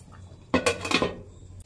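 A metal lid set down on a cooking pot during home vegetable cooking: a sharp clatter followed by a brief rattling ring that fades within a second, close and alone.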